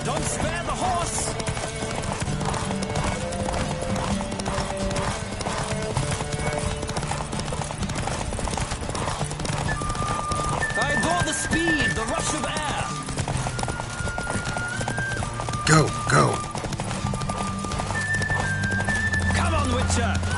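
Hooves clip-clop in a fast, steady gallop in The Witcher 3 video game, with voices talking over the rhythm and a horse whinnying briefly near the end.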